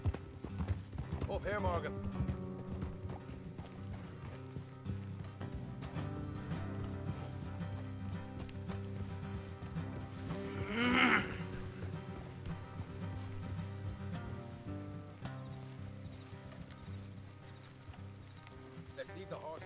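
Horses' hooves clip-clop steadily along a road in the video game Red Dead Redemption 2, a continuous rhythmic plodding under a game soundtrack, a short call from a character, and a brief louder swell midway.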